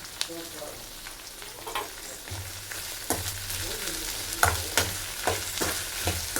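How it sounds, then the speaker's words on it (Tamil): Vegetables fry in oil in a pan while being stirred, a steady close sizzle broken by repeated scraping and clanking strokes of a spoon against the pan, with no talking. "காய் மட்டும்தான் போட்டிருக்கேன் இதை வந்து இப்போ நல்லா கிளறுவோம்"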